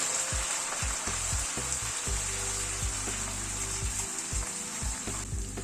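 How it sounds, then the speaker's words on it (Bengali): Tomato paste sizzles in hot oil with masala that has begun releasing its oil, with a steady frying hiss and repeated low knocks of a utensil stirring and scraping the pan. "টমেটোটা দিয়ে আবার কষিয়ে নেব।"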